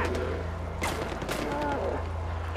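Enemies firing guns in Far Cry 4, a string of sharp shots and quick bursts cracking over the game's steady low hum, with players talking over the action.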